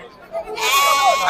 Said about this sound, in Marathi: गावरान जातीमध्ये बोकड आहे बघा